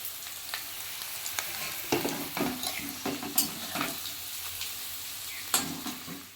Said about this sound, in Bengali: এবার আমি পেঁয়াজ দিয়ে দেবো তেলে।